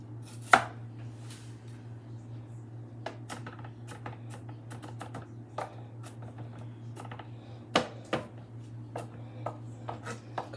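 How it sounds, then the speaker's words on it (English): A knife chops a small amount of garlic on a board in an Italian home kitchen, making quiet, irregular sharp taps spread across the stretch against a faint low hum, with no talk. "we're gonna chop garlic"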